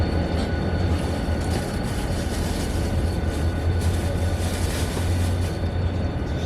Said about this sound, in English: There goes another diesel train.